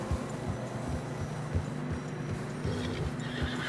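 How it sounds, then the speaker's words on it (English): A horse whinnies in Red Dead Redemption 2 over a steady low rumble of movement through fresh snow, with faint rhythmic thumps underneath; the neigh is fairly close and moderately loud. "Horses are getting tired."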